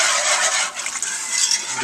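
Quick, brisk whisking of milk into flour and butter in a pan on the stove, a continuous close scraping swish with no pauses.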